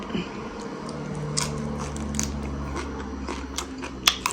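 Raw mustard greens (Senfrauke) freshly picked from a garden are bitten and chewed up close, with crisp, wet crunches repeating irregularly over a low background hum, no talking.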